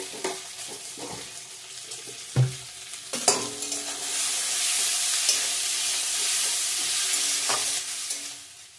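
Garlic and onion with salt fry in a pan for chickpea ghugni, a steady close sizzle that swells midway, broken by a few sharp stirring clinks and knocks; no one speaks.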